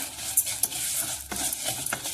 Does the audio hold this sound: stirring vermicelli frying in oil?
yes